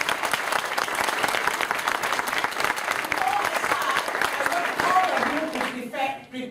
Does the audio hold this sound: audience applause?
yes